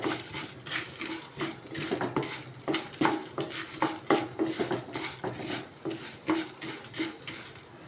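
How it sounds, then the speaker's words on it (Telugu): Lentils and coriander seeds roast dry in a pan for a Telugu nalleru kaaram podi, stirred with a spatula that makes rhythmic scraping and rattling strokes close by under a faint sizzle, with no talking. "దోరగా కలుపుతూ వేసుకోవాలండి"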